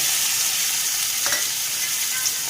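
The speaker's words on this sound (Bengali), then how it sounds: "এবার চিংড়ি মাছটাকে ভেজে নেব।" Prawns rubbed with salt and turmeric frying in a pan, a bright, steady high sizzle with one brief stirring scrape in the middle, close and continuous.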